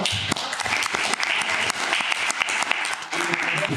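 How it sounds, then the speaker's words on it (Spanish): An audience claps steadily, a dense, lively burst of applause lasting a few seconds. "Pues nada, un aplauso."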